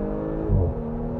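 An Audi S5 Sportback quattro engine revs hard with a rising surge midway as the wheels briefly spin, heard from inside the car; no talking.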